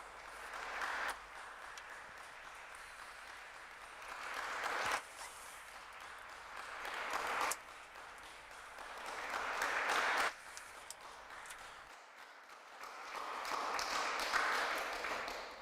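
Audience applause for panel speakers at a talk on ageing and society, coming in several swelling bursts of clapping separated by brief lulls and drops, moderately loud and unaccompanied by speech.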